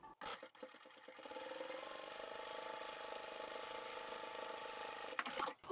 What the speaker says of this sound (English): Now this top stitching doesn't need to be done at all, it's purely decorative